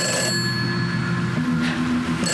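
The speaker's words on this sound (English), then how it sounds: "It's just a phone." A telephone rings steadily, loud and close, with a sustained electronic tone that changes pitch partway through.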